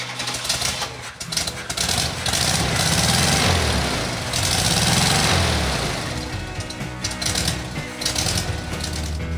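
Classic VW Beetle air-cooled engine running after a few pumps on the throttle, a loud, steady mechanical clatter that swells and eases through two broad surges, heard up close with no talk.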